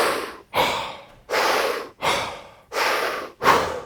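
Heavy, rapid breaths after a high-stress effort, about six loud, close inhales and exhales in a steady rhythm roughly every half second to second, with short pauses between them and no talking.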